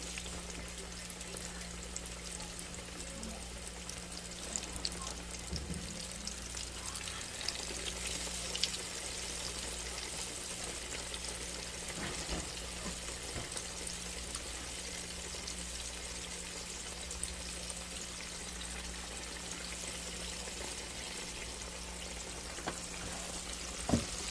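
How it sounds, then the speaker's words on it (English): Chicken thighs frying in a pan of pure lard give a continuous, moderate sizzle and crackle throughout, with occasional small pops and faint background clatter. "She's putting the thighs in the pan where the Crisco goes."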